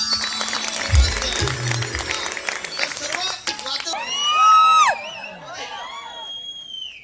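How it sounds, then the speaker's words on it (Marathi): A stage show audience at a Konkan chorus song performance cheering and applauding, a loud crowd roar with shrill whoops and whistle-like calls rising over it, while a voice speaks briefly at the start. "जोरात टाळ्या वाजवा"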